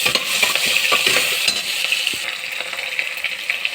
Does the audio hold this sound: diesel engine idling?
no